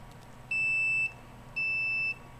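Electronic alarm beeping indoors: two long, loud, high-pitched tones, each about half a second long, separated by a short gap, over a faint background hum.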